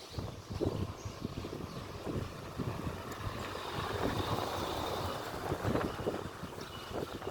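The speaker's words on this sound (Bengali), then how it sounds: "দারুণ হাওয়া দিচ্ছে" Steady wind blowing outdoors near a home, a continuous broadband rush with gusty swells across the whole stretch, fairly loud and close to the microphone with no talking.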